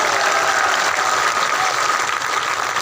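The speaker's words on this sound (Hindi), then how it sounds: "अरे तालियों की गड़गड़ाहट से बताऊं" A rally crowd at an outdoor village political gathering in Kamthari, Dimni, Morena, breaks into loud, steady applause, a dense, continuous roar of clapping hands that holds throughout without a pause.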